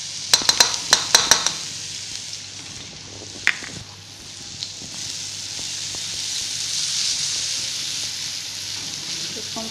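Soft steady sizzle of crushed ginger and garlic with cumin and onions sautéing in a pan, opening with a quick run of sharp utensil clicks against the metal and a later clink, the frying hiss rising gently.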